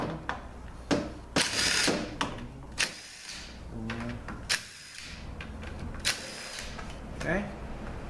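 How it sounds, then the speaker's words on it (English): Ratchet backing out the six bolts that hold the TCM to a ZF6HP26 transmission valve body, clicking in short bursts with metallic clanks, close by, while someone talks over it. "we're going to take the 6 bolts out that hold the TCM to the valve body"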